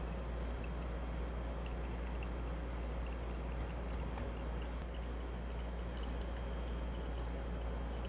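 Water poured steadily over ground Benguet coffee for a drip brew, a soft, continuous trickle heard close and fairly quiet against a low steady hum.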